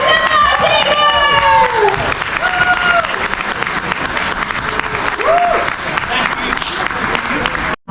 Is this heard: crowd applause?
yes